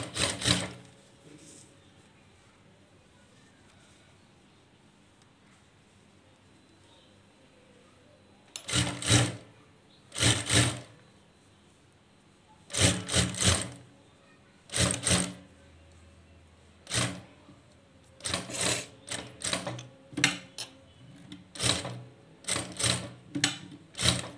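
A sewing machine stitches a kinari border onto the back neck of a blouse in short, rapid bursts of loud, close mechanical clatter, separated by quiet pauses, with more frequent runs toward the end.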